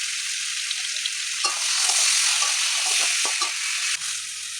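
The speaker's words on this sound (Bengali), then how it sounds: "এখন আমি এটা একটু ভেজে দেবো।" Olives frying in a pan with salt, turmeric and spice powder, giving a steady, loud sizzle with occasional stirring scrapes and brief pops throughout.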